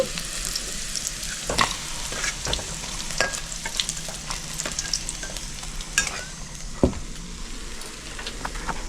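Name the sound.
frying bitter gourd (uchhe) in oil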